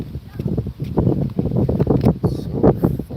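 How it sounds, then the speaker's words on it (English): Strong gusts buffet an outdoor microphone in a steady, rumbling roar with fluttering bursts, loud and close throughout the moment. "So windy."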